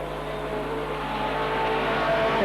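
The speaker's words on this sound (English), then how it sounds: "Coming home in third place is going to be the number 12 Corolla" The number 12 Toyota Corolla race car crossing the line at the end of a heat at a saloon car circuit meet, a steady engine roar that swells gradually louder as it draws nearer, with no talk over it.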